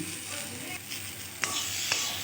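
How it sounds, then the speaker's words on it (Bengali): A spice mixture with tomato and salt frying on low heat in a pan, a steady soft sizzle broken by two sharp scraping strokes as it is stirred. "নেড়ে চেড়ে ভেজে নিচ্ছি"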